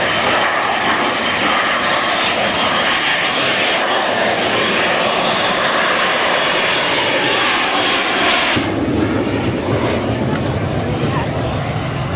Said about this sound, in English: Only operationally viable fighter that's capable of vertical short takeoff landing.